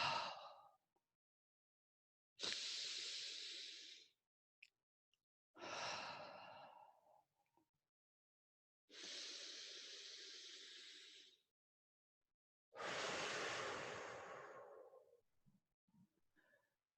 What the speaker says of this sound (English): I'm going to inhale, and then I'll exhale, and then I'll do it again.